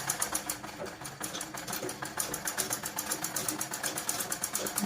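A sewing machine stitching buckram onto a blouse gives a quiet, rapid, even run of mechanical clatter pulses that continues steadily throughout.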